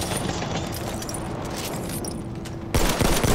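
Battlefield 1 combat on the Monte Grappa map with dense, continuous gunfire rattling throughout, then a louder, closer burst of shots crashing in near the end; no talking.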